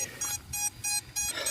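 A locator buzzer on a crashed FPV drone sounds four sharp, evenly spaced electronic beeps in quick succession, loud and close, with no talk over it.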